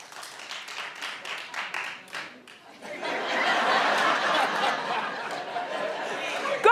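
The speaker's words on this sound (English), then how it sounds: "Clap if you've seen the Justin Bieber documentary." A talk show studio audience breaks into loud, sustained clapping mixed with some laughter and chatter, following a few seconds of a host speaking.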